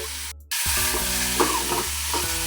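Food fries in a pan until golden, a loud, close sizzle starting abruptly after a short silent moment and continuing steadily over a low droning hum.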